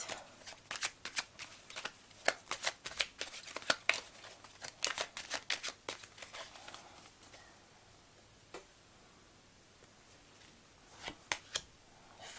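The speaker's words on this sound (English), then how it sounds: "So many cards falling." A deck of tarot cards is shuffled in quick bursts of crisp riffling snaps, close and fairly loud, then pauses before a few last flicks as cards drop out.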